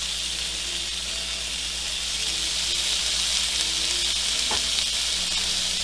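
Spiced rum shrimp sizzling on a hot grill, a loud, constant hissing sizzle with faint clinks and shifts, no talking.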